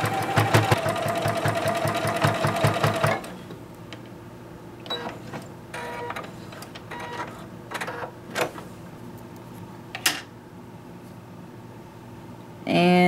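A sewing machine stitches a rolled hem on a skater dress in a fast, steady close-up run lasting a few seconds, then stops; scattered clicks and handling sounds follow before the motor starts again at the end.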